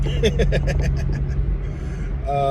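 Porsche Panamera Turbo driving slowly through a school zone, a low steady engine rumble heard from inside the cabin, with a brief chiming tone series early on.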